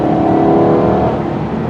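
A VW Passat GT V6 engine revs hard under acceleration, a loud sustained growl with a steady rising drone close by and no talking.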